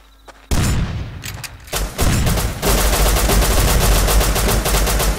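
Bursts of rapid gunfire, including an MP5-style submachine gun, in the survival video game Rust: a sudden loud volley, brief pauses, then sustained automatic fire, dense and close with no talk.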